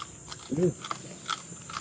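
Close crunching bites of crisp food, a few brittle snaps and chewing sounds, with a brief murmur of voice in between.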